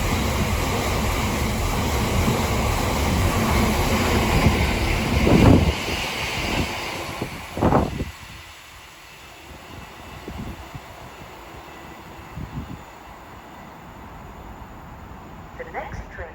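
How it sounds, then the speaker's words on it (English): A Freightliner Class 66 freight train rumbles loudly through Milton Keynes Central station amid wind noise, then fades away, leaving a quieter platform ambience. "Our next freight of the day will be a Freightliner 66 going from Woolston GWF to New Tidden"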